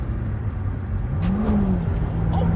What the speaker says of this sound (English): Rev it up to 6K, and then get off the clutch.